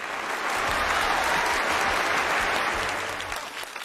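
Theater audience applauding during a comedy sketch at a Jilin Spring Festival Gala, a thick sustained wave of clapping that swells, holds steady and then tapers off.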